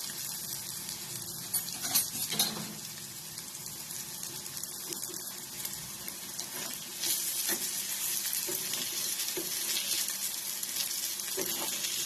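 Potato and poha vadas frying in a pan, giving a continuous soft sizzle with occasional faint clinks, steady and fairly quiet throughout.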